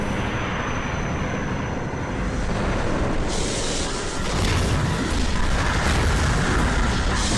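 A dense, continuous roar of booming blasts and rumbling bursts from an animated Skibidi Toilet battle, loud throughout and intensifying toward the end, with no voices.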